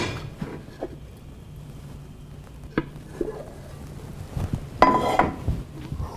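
Frying food is flipped in a Berndes non-stick pan using a plate. Quiet kitchen handling is broken by a few sharp clinks and a louder clatter of plate against pan near the end.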